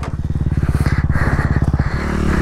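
Honda CRF 250RX dirt bike engine under way, a loud close-up rapid pulsing thump with steady rhythm that eases off near the end as the throttle drops, no talking.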